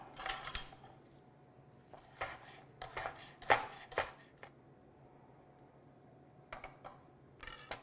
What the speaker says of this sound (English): Oh, I've got to cut up my spring onion.